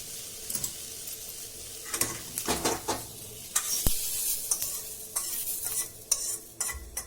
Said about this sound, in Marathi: हा कांदा चांगला लालसर भाजायचा लालसर होऊन तोपर्यंत भाजायचा त्यात ही एक हिरवी मिरची पण भाजायची